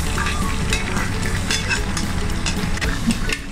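A hot fried tempering is poured onto cooked tapioca, giving a loud, dense sizzle with crackling bursts and stirring scrapes, close up, with no talk.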